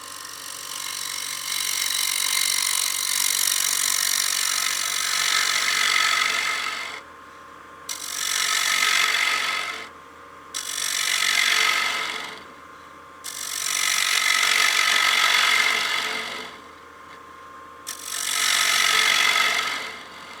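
A wooden bowl spins on a lathe while an Easy Wood Tools cutter shaves its interior, giving long rasping cutting passes separated by brief pauses, loud and close.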